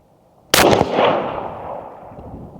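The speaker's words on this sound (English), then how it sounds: "That's a good gun you're shooting." A single sharp rifle shot at an outdoor 100-yard range, loud and close, with a crack followed by a long rolling echo that fades over about two seconds.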